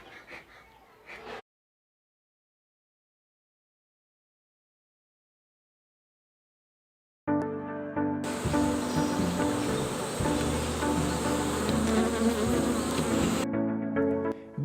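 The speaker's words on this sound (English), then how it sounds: "Beehives are opened after the bees have been smoked out using a smoke pump, and honeycombs are pressed by hand." Honey bees swarm around an opened beehive after smoking on a Ugandan bee farm, a dense, loud, continuous buzz close up, with a silent gap before it.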